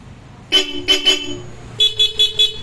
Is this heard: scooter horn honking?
yes